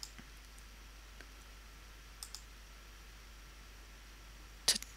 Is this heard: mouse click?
yes